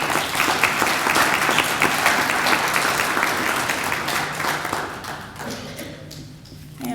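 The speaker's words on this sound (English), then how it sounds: "They all deserve a round of applause for sharing in this with us." An audience at an academic honor society induction ceremony applauds in a dense, sustained wash of clapping that gradually thins and fades toward the end, with a few scattered claps lingering.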